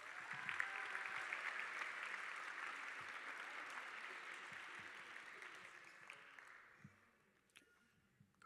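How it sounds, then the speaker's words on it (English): Sustained applause fills a school awards assembly as students are honored, a dense wash of clapping from a large audience that gradually thins out and fades into a few scattered claps. "Let's give these students a big round of applause, please."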